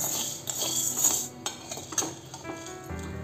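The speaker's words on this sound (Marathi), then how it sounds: "आता यामध्ये आपण चणा डाळ भाजून घेऊया." Chana dal is roasted and stirred in a pan, giving close metallic scrapes and light clinks of a spoon against the pan in an uneven rhythm, with no talking.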